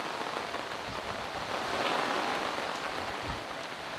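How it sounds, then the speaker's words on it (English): Heavy rain pours steadily onto a boat under way from Houston to Fort Lauderdale, a dense continuous hiss of drops drumming on the deck and cockpit cushions, close and loud with no voices. "you can probably hear the rain now."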